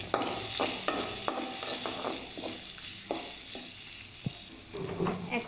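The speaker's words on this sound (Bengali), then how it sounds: "এখন আমি এখানে পেঁয়াজ দিয়ে দিচ্ছি। পেঁয়াজটা আমি ভালো করে ভেজে নিব আবারও।" Sliced onions sizzle in a pan of hot oil alongside already-fried shrimp, a steady crackling hiss with repeated spatula scrapes and knocks against the pan, close and moderately quiet, no voices.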